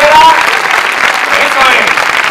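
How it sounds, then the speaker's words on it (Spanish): A theatre audience at a Falange Española anniversary event breaks into loud applause, a dense burst of clapping with a voice calling out over it. "un aplauso ahí fuerte"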